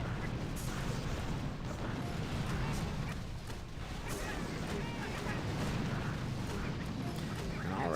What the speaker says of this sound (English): all those boom cannons just absolutely wrecking my troops there